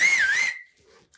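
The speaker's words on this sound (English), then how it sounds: "Let's hear that whistle." A person whistles for a dog at a dog show, one loud sliding whistle that dips and rises for about half a second, followed by near silence with faint background sounds.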